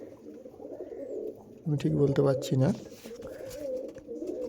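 Young Star Kalanka pigeons coo in a short burst of rounded, rolling calls in the middle, with a person talking quietly before and after.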